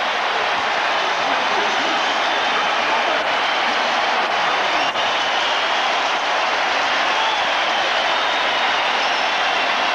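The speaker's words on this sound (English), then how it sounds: "Listen to this crowd." Loud, dense stadium crowd roaring and cheering steadily after a touchdown by the Bills tight end at a 1990 Raiders vs Bills NFL football game, a continuous wall of noise with no letup.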